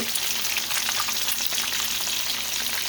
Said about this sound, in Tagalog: prito-prito ng isda